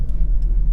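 A 2003 Toyota Previa 2.4 CDX five-door seven-seat people carrier with 189,073 miles on the clock rumbles along on a road test, a close, steady low engine and road drone with no talk.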